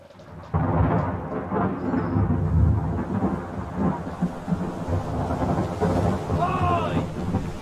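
Thunderstorm in the ship mystery game Return of the Obra Dinn: a heavy thunder rumble breaks in loudly after a quiet start, then rolls on over steady rain, with a wavering higher tone near the end.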